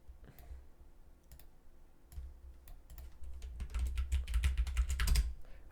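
Computer keyboard typing while naming map files in QGIS: sparse keystrokes at first, then a fast, busier run of close, crisp clicks that gets louder toward the end, with no talking.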